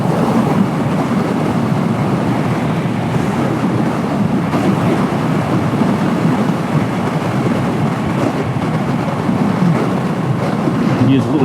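Strong wind buffets a rider on a Royal Enfield Hunter 350 motorcycle during a Texas road trip, a loud, constant roaring rush with no breaks, close to the microphone.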